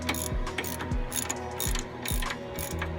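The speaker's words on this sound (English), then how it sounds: "I'm going to get my 15mm wrench and socket." Ratchet wrench with a 15mm socket working a bolt on a 2003 Chevy Trailblazer suspension, loud close clicking in several quick back-and-forth bursts, with no talk.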